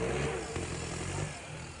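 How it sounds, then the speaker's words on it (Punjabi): Tractor engines, including a Sonalika, rumble and clatter steadily as they move past nearby, a continuous mechanical drone with no pauses. "ਦੇ ਨਾਲ ਟਰੈਕਟਰ ਜਾ ਰਹੇ ਨੇ"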